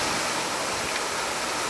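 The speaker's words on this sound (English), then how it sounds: "All of the water coming from a single fire hydrant," Water roaring from a broken fire hydrant struck by a moving truck beside downtown San Diego apartments, a loud, steady, unbroken gushing hiss with no voices.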